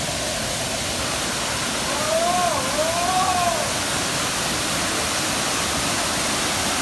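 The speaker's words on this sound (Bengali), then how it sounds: "জলের ছিটে উঠে আসছে।" A waterfall in Telkoi wildlife sanctuary, Keonjhar, Odisha, roars as a dense continuous rush of splashing water, steady and loud, with faint birdlike chirps briefly above it.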